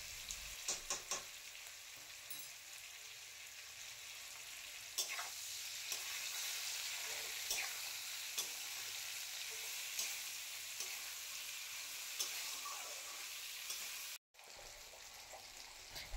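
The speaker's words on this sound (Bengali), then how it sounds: "তেলের মধ্যে দিয়ে এটাকে লবণ আর হলুদ দিয়ে কিছুক্ষণের জন্য ভাজতে হবে।" Ash gourd pieces frying in hot oil with salt and turmeric give a steady, close sizzle, with occasional scrapes and clinks as they are stirred; no one speaks.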